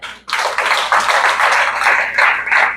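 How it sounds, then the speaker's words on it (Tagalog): An audience at a young people's gathering breaks into loud, close applause after a short pause, many hands clapping in a dense, steady patter that holds until the end. "Palakpak!"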